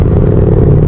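Big motorcycles, BMWs among them, passing in traffic in Pampanga, a brief close, loud engine rumble with a steady low drone and some clatter.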